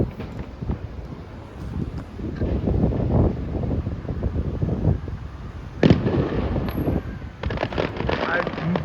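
Fireworks display at Haymarket Park heard from a distance outdoors, scattered booms and crackles under wind noise on the microphone, with sharper bursts near the end.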